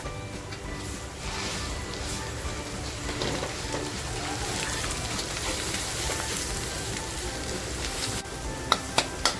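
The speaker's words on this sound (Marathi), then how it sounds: "आपला मसाला असा छान फ्राय झालाय" Ground masala for a spicy mutton curry fries in a pan with a steady, close hiss and crackle throughout, broken near the end by a few sharp clinks of a utensil.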